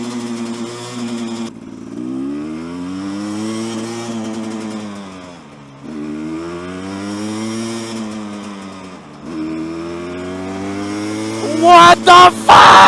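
A gas dirt bike engine revs and drones in long rising and falling pulls while being ridden, loud and close, ending in rough clattering bursts.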